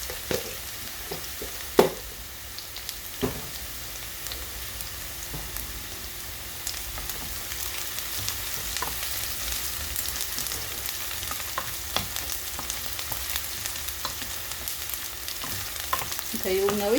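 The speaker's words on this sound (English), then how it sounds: "once the mustard seed starts to sputter" Mustard seeds fry in hot oil in a pan beside browning paneer and onions, giving a steady sizzle dotted with sharp pops and sputters throughout.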